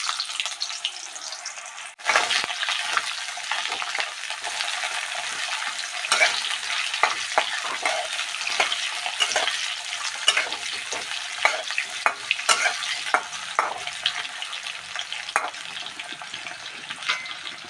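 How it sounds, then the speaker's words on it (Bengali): Cut potatoes dropped into hot oil with nigella seeds and dried chilli, a loud continuous sizzle with crackling pops and stirring scrapes throughout, starting with a sharp burst after a quieter moment. "এবার দিয়ে দেব আমি কেটে রাখা আলুগুলো।"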